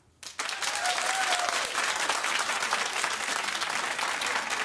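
A television talk show studio audience breaks into loud, dense applause that starts abruptly and holds steady and close for several seconds, with a brief voice at the onset.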